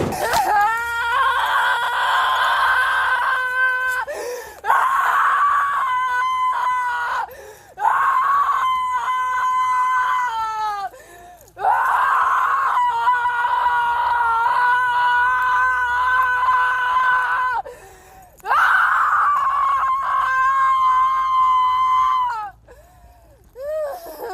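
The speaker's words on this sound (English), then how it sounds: "Two officers escorted her to the patrol car as she continued screaming relentlessly" A woman screams relentlessly while two officers escort her to a patrol car during an arrest, long loud wailing bursts repeated with brief pauses between, close and harsh.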